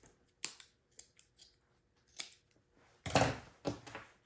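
Scissors trim felt flower petals for a wreath with a series of crisp, close snips, quiet at first and then a louder burst of cuts near the end.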